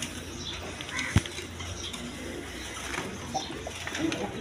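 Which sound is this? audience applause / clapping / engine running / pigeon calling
pigeon calling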